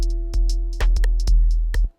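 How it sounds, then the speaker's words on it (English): A programmed drum beat: punchy kick and snare hits with crisp hi-hats in a steady groove, close and clear, no talking. "Let me maybe play some drums for you"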